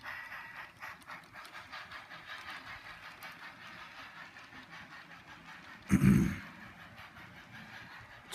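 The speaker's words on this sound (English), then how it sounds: "It's really great to finally have a train running on this layout." A small HO scale model train rumbles steadily along a layout loop with a faint hiss and light rail clatter, then a brief louder thump near the end.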